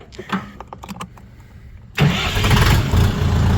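A few soft clicks and knocks, then the small engine of a DTZ 40-horsepower mini tractor cranks and catches abruptly, settling into a loud, steady rattling run close by.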